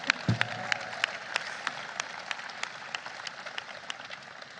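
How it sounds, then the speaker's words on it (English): Audience applause at a speech by President Biden on passage of the Inflation Reduction Act: a steady, moderately distant patter of many hands clapping, with a few sharper claps standing out. "round of applause for that."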